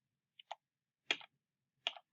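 A computer keyboard clicks in a few quick, quiet bursts, two short taps followed by two louder clusters of keystrokes spaced apart in an otherwise silent room.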